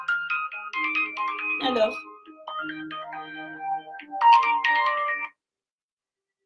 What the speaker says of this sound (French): je suis désolée pour la personne qui a, je ne sais pas qui a sonné